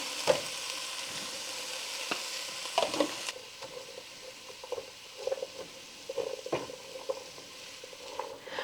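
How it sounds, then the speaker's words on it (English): Celery and other vegetables sautéing in a pot, a soft crackling sizzle under intermittent scrapes and taps of a spoon stirring, fairly quiet and close, with no speech. "I'm going to saute my vegetables until they get good and softened"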